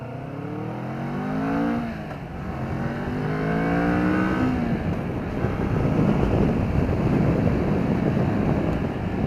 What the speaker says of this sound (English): Bike has a lot of power actually. It gets up to speed very quickly, and it sounds amazing doing it too.